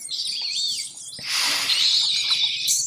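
Shrill bat screeches from the survival game Stranded Deep, sharp chirping squeals that swell into a louder, thicker burst of overlapping cries midway and stay busy until the end.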